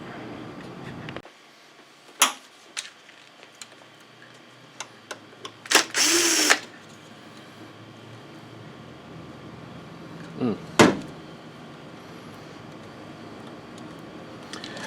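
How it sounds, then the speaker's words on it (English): Screws being removed from a Christie LX66 LCD projector with a power driver, in a few short separate bursts and one longer whir, close and fairly loud over a quiet room. "popping out these screws and seeing if we can just lift this thing out"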